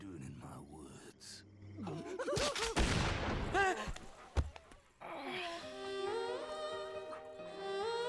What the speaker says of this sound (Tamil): உனக்கு துப்பாக்கி சத்தம் பிடிக்காதடா?